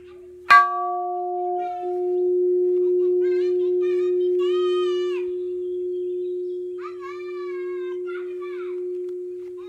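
A metal alloy piece struck once, giving a sharp clang that settles into a long, steady bell-like ring with clear sustained tones, while faint chirpy sounds drift in over the decaying tone.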